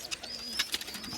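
Pigeons and pigeon chicks make soft calls and brief chirps nearby, with light rustling, over a steady low background hum.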